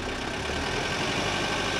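An old vintage vehicle's engine idles steadily with its idle speed being adjusted: a continuous, rough, close mechanical rumble with no talk over it.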